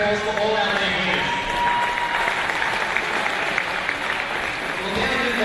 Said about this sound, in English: Big round of applause for all our league winners.